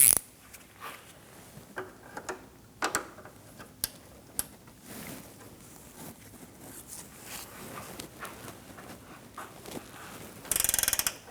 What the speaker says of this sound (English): We'll be using two 18mm wrenches to break this nut and bolt free.